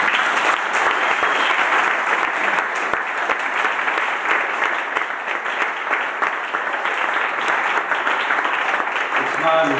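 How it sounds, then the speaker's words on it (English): An audience at a family retreat talent show claps in a dense, sustained burst of applause that holds steady at full strength for about ten seconds. "everyone deserves a round of applause for having enough courage to get up here and do it"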